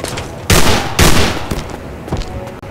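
Gunfire in the video game Haunted: Hell's Reach, with loud, close bursts of shots, two heavy blasts about half a second apart followed by lighter scattered firing.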